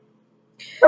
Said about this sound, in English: I apologize if you hear my dog in the background